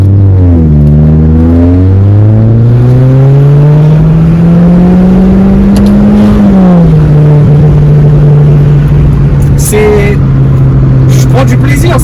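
A Renault Clio 4 GT with an aftermarket exhaust accelerates hard, its loud, close engine note climbing in pitch, then settling into a steady high drone after a brief dip.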